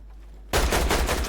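Gunfire in the video game Fortnite erupts abruptly after a brief quiet moment, a loud rapid burst of shots that keeps going until the end.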